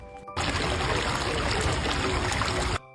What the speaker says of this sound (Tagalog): lalo na tong daloy ng tubig, pakinggan nyo.